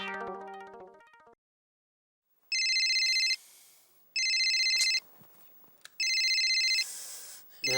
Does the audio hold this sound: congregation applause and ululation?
no